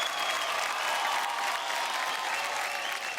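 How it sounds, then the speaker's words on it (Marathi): A studio audience applauds a prize winner on a Marathi television show, dense steady clapping from many hands throughout, close and fairly loud with no voices on top. "जोरदार टाळ्या होऊन जाऊ द्या पायलसाठी."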